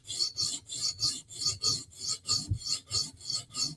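A knife edge drawn across a sharpening stone in steady back-and-forth strokes, about a dozen even rasping passes close up with no talking.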